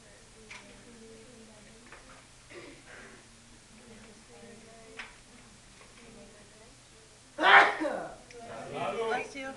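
A single sharp sneeze bursts out near the end of a quiet classroom quiz, loud against faint background rustling and ticking, followed by a short noisy rustle.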